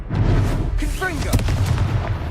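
Confringo fire-spell explosions in the video game Hogwarts Legacy, loud booming blasts over a rumbling game soundtrack with a brief whistling swoosh in the middle, and a player's voice faintly present.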